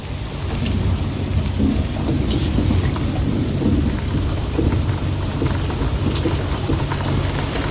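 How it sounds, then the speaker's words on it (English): Heavy rain pours onto a boat during a thunderstorm, loud and constant, with low rolling thunder rumbling underneath and no voices. "just chilling for the storm."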